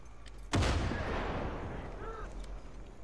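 An explosion in the video game Far Cry 5 booms suddenly and loudly, then rumbles and fades over a few seconds, with faint game sounds behind it.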